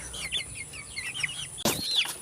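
Native chickens cluck and chirp softly close by, with a sudden flapping burst and a higher peep near the end.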